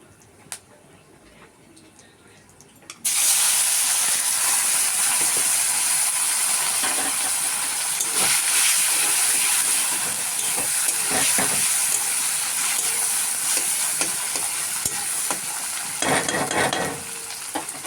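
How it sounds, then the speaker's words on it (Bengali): Cumin seeds and dried red chillies hit hot oil and burst into a loud, steady sizzle that holds for about fifteen seconds, with faint crackles and pops through it, while cooking a spicy katla fish curry with papaya. "জিরে আর শুকনো লঙ্কা ফোড়ন দিয়ে দেবো।"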